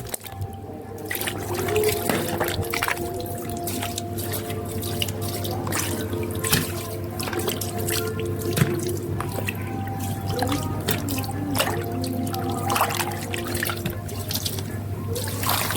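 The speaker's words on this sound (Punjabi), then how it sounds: "ਮਿਰਚਾਂ ਵੀ ਧੋ ਦਿੰਨੇ ਆ ਚੰਗੀ ਤਰ੍ਹਾਂ" Green chillies are washed under a running kitchen tap, with steady flowing water and irregular drips and splashes as they are rinsed, close up and without speech.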